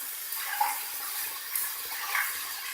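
Tap water running into a bathroom sink, a steady close splashing hiss with small surges as the stream shifts, alone with no talk.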